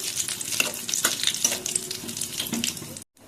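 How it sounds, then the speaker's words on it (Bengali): Dried red chillies, a bay leaf and cumin seeds fry in hot oil as a steady, close sizzle, broken by stirring clatter and a few spatters before the sound cuts off abruptly near the end. "ফোড়নে নিয়েছি দুটো শুকনো লঙ্কা একটা তেজপাতা আর একটু জিরে হাফ চামচ জিরে ফোড়নটা একটু ভাজাবো"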